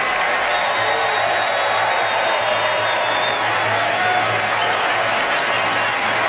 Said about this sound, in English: Everybody, please join me in giving Meryl Streep a totally undeserved round of applause